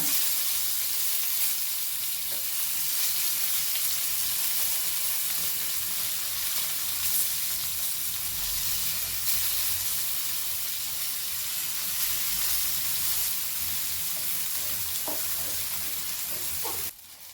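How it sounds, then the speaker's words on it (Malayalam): Fish fries in a pan, a dense continuous sizzle and hiss throughout, with occasional soft scrapes and clinks as the pieces are turned over, close and steady until a brief drop at the end. "ജസ്റ്റ് ഇതിൽ കിടന്നൊന്ന് മുരിയട്ടെ കേട്ടോ അപ്പൊ ഞാൻ ജസ്റ്റ് ഇതൊന്ന് തിരിച്ചിടുകയാണ്"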